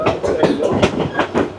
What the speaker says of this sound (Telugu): ఇప్పుడు ఇంకా ట్రైన్ కూడా స్టార్ట్ అయిపోయింది